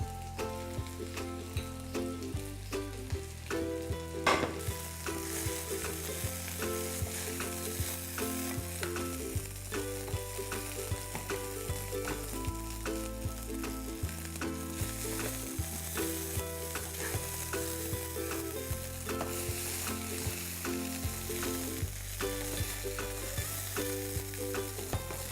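Oil heats and sizzles in an egg pan, a steady soft frying hiss running under prominent background music throughout.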